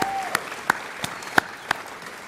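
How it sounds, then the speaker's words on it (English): Scattered claps from the audience at the 2018 Australian Games Awards, a handful of distinct, fairly close hand claps spaced through a quiet room. "how about another round of applause for Hex"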